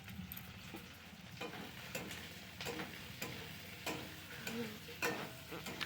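Chicken pakora frying in hot oil in a home kitchen, a steady close sizzle with scattered stirring clicks and scrapes running through the whole stretch, no voices.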